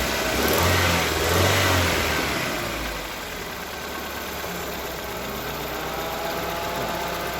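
A Toyota Corolla engine revved while its ignition timing is checked, rising to a loud rev with a rough edge, then easing back to a steady mid-pitched idle hum, close by and alone.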